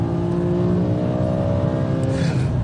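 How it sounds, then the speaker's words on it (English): A BMW M5's 5-litre V10 engine revs loudly and close up in one sustained, rising and falling note, strong and smooth with a rich harmonic drone, heard alone without talk. "Perfect time to start experimenting with the 5-litre V10 engine."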